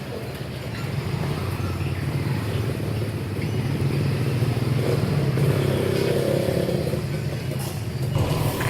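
Steady, close engine drone of motorcycles and other two-wheelers passing along a narrow Bangkok street, a continuous traffic rumble with occasional revving and no pauses.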